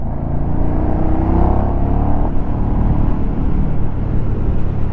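KTM Super Duke 1290R motorcycle pulling hard in third gear from low revs, a loud, steady engine drone with rising harmonics and heavy wind roar throughout.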